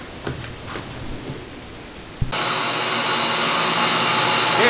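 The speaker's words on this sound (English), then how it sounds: "And we've got the grinding motor running." A Themac tool post grinder motor mounted on a lathe starts up and runs with a loud, steady broadband whine and hum that continues evenly to the end.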